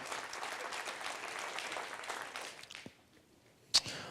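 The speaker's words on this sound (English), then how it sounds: "Another round of applause for Greg" Audience applause at a business recognition breakfast, a sustained burst of clapping that fades out after about three seconds, then one sharp clap-like hit near the end.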